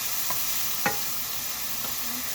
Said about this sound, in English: Such a good sizzle.